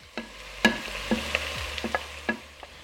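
Ground beef and pork sautéing in a pot for Bolognese ragù, with a soft steady sizzle broken by several sharp clicks and scrapes of a spatula breaking up the meat, close and moderately quiet.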